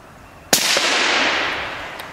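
A suppressed bolt-action rifle that takes standard AR magazines fires once, a sharp crack followed by a sustained bright hiss and a distant impact smack as the round strikes.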